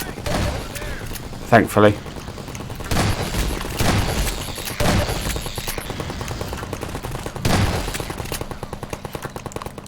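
Half-Life 2 Episode 2 combat brings loud, close gunfire and booming blasts in bursts, heard under someone talking briefly, with ongoing rapid shots toward the end.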